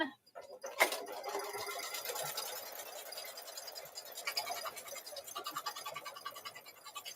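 A sewing machine runs a placement stitch for batting on a mug rug, a faint, continuous rapid ticking hum heard close up with slight variations in intensity and no talking.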